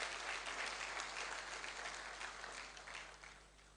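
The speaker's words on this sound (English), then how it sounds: "A round of applause, please." Steady applause from an audience at a 2025 licensing round pre-bid conference in a hall at the Eko Hotel, sustained clapping for several seconds that fades slightly toward the end.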